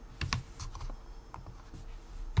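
Password being typed on a computer keyboard while installing Parrot Security OS in VirtualBox: a few quiet, scattered key clicks, no talking.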